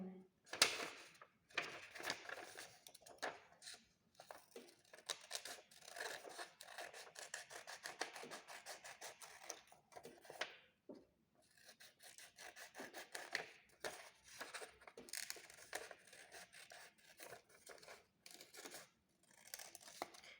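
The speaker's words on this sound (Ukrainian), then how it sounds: "Тепер діти беремо ножиці і обрізаємо." Scissors cut out a folded paper card, giving rapid crisp snips and rasping paper rubs in quick bursts with short pauses, close and quiet, and a little speech mixed in.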